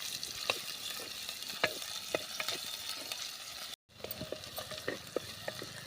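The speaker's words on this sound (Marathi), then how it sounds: "कांदा आपल्याला चांगला गुलाबी रंग येईपर्यंत परतून घ्यायचा आहे" Chopped onion sautéing in a pan, a constant sizzle broken by frequent spoon scrapes and taps against the pan, with a brief cut near the middle.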